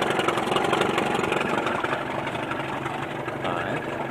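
A 1982 Evinrude 35 HP outboard motor idles on a 14-foot V-hull boat, giving a steady, close, rumbling drone that runs throughout.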